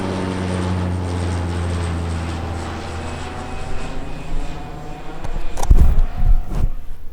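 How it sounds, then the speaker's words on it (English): A propeller airplane drones low overhead at a beach, its engine hum steady at first, then swelling louder and rougher toward the end as it passes close, with wind buffeting the microphone. "Frigging plane noises."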